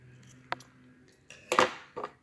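Scissors snip off the end of a ribbon at a bow, giving a few quiet, sharp close-up cuts spaced over about two seconds.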